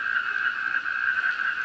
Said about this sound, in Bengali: আজকে প্রচুর ব্যাঙ ডাকছে